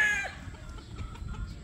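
Chickens cluck softly in short, scattered bursts over a low, rumbling background, with a brief higher call near the start, during breeding season.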